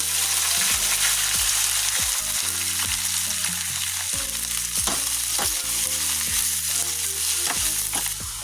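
Garlic and seasonings sizzle and fry in hot oil with a pinch of salt, a loud steady crackle broken by repeated scraping knocks of stirring in the pan.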